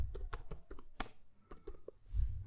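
Close, quiet keystrokes on a computer keyboard while writing code, irregular bursts of clicky taps with short pauses between them, no voices present.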